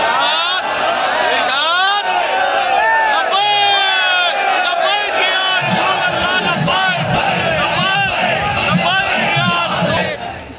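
A large, dense crowd chanting and shouting "Ya Rasool Allah" slogans at a long march rally, loud and sustained, with overlapping voices and rising cries across the whole stretch before tapering at the end.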